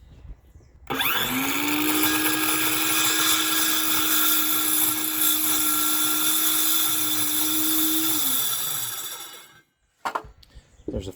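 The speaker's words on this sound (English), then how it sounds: "This will let me kerf it with the saw and put kerfs 3/4 of the way through this" A power saw cutting kerfs three quarters of the way through a board: after a sharp start, a loud steady whine runs for about eight seconds, winds down and stops, with nobody speaking.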